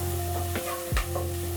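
Carrots and roughly chopped garlic sizzle in oil in a beef stew pot, a steady close fry broken by a few scraping stirs, with a low steady hum underneath.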